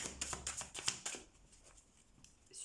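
Tarot cards being shuffled by hand: a quick run of crisp, riffling flutters and slaps, close and fairly loud, fading into softer card handling with no voices.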